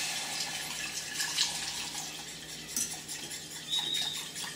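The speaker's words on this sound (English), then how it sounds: "And then I have a cup of homemade chicken stock. I'm just going to pour that right in." Homemade chicken stock is poured into a pan, a close, trickling splash with light clinks of kitchenware, heard alone without talk.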